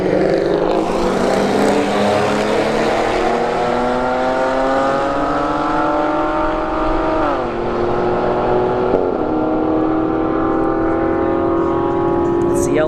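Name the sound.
Acura sedan and ZL1 Camaro drag racing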